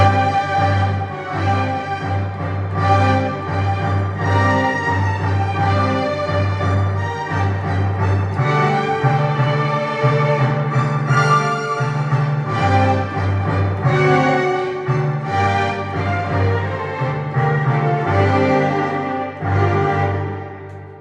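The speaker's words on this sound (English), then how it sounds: "this sound uses the symphony instruments to play the melody" An electronic keyboard's symphony voice plays a Chinese melody with full orchestral layered chords over a steady sustained bass, loud and continuous, with the harmony moving in several clear changes and no talk.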